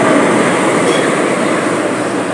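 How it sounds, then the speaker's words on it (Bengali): A South Eastern Railway WAP4 electric locomotive from Howrah hauls a train past at close range, a loud, steady broadband rumble of wheels and traction filling the whole stretch with no talking. "এদিকে সাউথ ইস্টার্ন রেলের WAP4 একটা ইঞ্জিন হাওড়ার। দেখি কোন ট্রেন নিয়ে ঢুকছে।"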